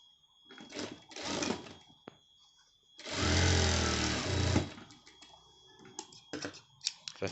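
Sewing machine stitching a shirt pocket, running in one loud, steady burst of about a second and a half, framed by clattering handling clicks and fabric rustle before and after.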